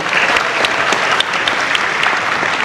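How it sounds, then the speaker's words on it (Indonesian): Loud, dense audience applause fills a presidential debate hall, a steady wash of clapping from many hands lasting the whole stretch without letup. "Kini saatnya baru kita akan sama-sama memberikan apresiasi tepuk tangan kepada seluruh calon presiden yang sudah menyampaikan visi misinya."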